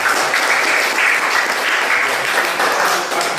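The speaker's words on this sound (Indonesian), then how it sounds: "Tepuk tangan dulu untuk kelompok 1." A classroom group claps for a team of students after their presentation, producing loud, dense, continuous applause that fills the room.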